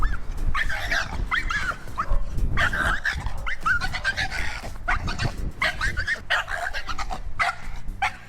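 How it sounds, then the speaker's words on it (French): A muzzled, aggressive dog snarls and growls in agitated bursts, with squealing, pig-like whines and yelps between, loud and close throughout. "Et elle commence là à déplier les dents, à grogner, à devenir complètement dingue dans sa muselière."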